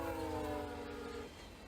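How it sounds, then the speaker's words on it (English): A massive passenger train rolls by behind a town park: a steady low rumble with a sustained tonal whine that cuts off abruptly, leaving the rumble going on its own. "there truly is a massive passenger train rolling by behind the town park"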